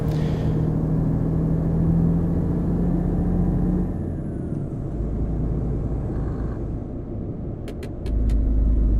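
A heavy truck in Euro Truck Simulator 2 runs at full throttle and jumps between gears, its loud engine drone rising and dropping as it shifts, with a brief hiss near the end.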